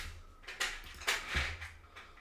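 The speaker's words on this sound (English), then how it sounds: "It is my dog feasting on an enrichment toy whilst I stream." A dog works at an enrichment puzzle toy indoors, producing a handful of irregular clattering rattles and knocks, fairly quiet and close, with no talking.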